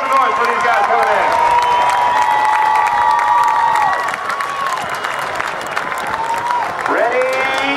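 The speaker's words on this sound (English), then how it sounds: "So let's hear some noise for these guys coming in." A crowd at a naval air station airshow applauds and cheers as parachute jumpers come in, dense continuous clapping and shouting throughout, with a voice calling out over the noise.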